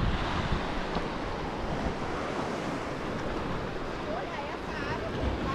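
Surf washing onto a beach at Arraial do Cabo, Brazil, a steady broadband rush of breaking waves with wind buffeting the microphone throughout; faint voices may sit beneath the wash.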